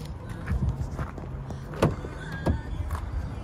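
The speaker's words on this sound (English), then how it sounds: "front and rear electric windows" Electric windows on a used manual car with cruise control and air conditioning whir up and down nearby, with a couple of soft clunks and thuds in between, and no speech.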